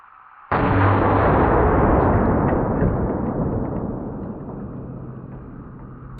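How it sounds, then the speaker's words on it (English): A single .500 revolver gunshot outdoors: a sudden, very loud blast followed by a long rumbling decay that fades slowly over several seconds. "When you shoot a 500 with electronic ear pro, the world just gets quiet after that gunshot."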